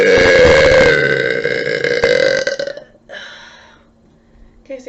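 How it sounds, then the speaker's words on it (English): A loud, long burp from a young woman rumbles close to the mic for about three seconds, then trails off into quieter throat sounds and a brief noise at the end. "I'm extremely confident in my burps, in case you haven't noticed."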